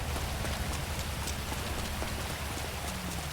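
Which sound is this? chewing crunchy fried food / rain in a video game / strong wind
rain in a video game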